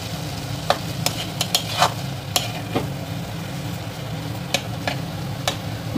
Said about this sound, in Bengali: দিয়ে ভালোভাবে একটু নেড়ে নিলাম